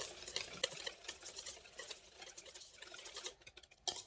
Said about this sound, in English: I'm going to mix this all together and make sure that it's really well combined and mixed through